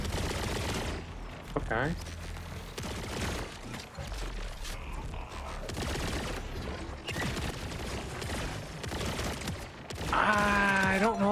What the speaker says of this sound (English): let's try this new gun